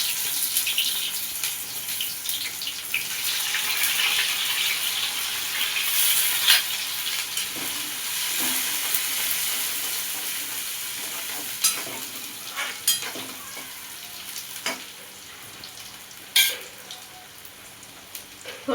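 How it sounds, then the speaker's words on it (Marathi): Chopped onion dropped into hot oil left from frying paneer for a dhaba-style matar paneer, giving a steady, fairly close sizzle with scraping and stirring clatter rising and falling throughout. "आता मी ह्याच तेलामध्ये कांदा टाकून घेणार आहे."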